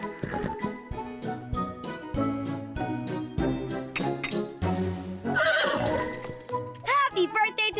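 A horse neighs and hooves clip-clop alongside jingling tack in an animated children's show, with voices and music throughout and a loud whinny near the end.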